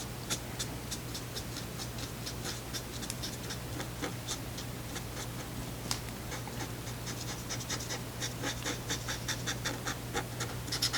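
Pens color in a snowman card with quiet, steady scratching strokes and light taps repeating close up, over a constant low electrical hum, with no talking.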